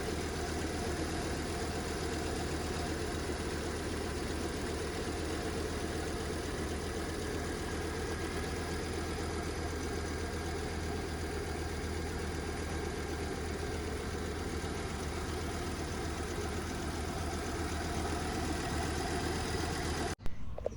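A 1983 Audi S5 Coupe engine idles steadily after warming up, a constant, even rumble that runs unbroken and fairly close for about twenty seconds with no talk.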